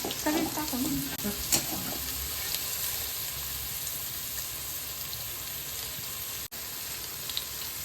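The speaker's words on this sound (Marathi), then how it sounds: "टाका तेलामध्ये आपण बारीक चिरलेला कांदा परतण्यासाठी टाकू" Finely chopped onion sizzles and crackles steadily in oil, with a few stirring scrapes near the start, close and continuous.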